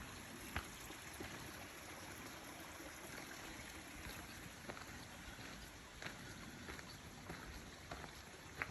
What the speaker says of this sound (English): There's still water in this creek.